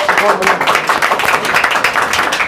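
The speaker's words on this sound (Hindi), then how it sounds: "सर के लिए एक बार जोरदार ताली सर के लिए" An audience gives a teacher a round of applause, with dense, steady clapping from many hands at close range running throughout.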